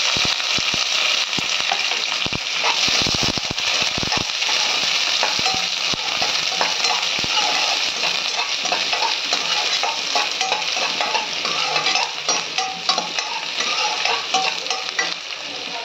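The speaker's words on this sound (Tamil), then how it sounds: "இப்போ வந்து வெங்காயமும் கருவேப்பிலையும் போடுறேன்." Onion and curry leaves sizzle steadily in hot sesame oil, with scraping stirs of a ladle against the pan near the start, a constant close crackle throughout.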